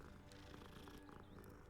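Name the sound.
cat purring in Hogwarts Legacy video game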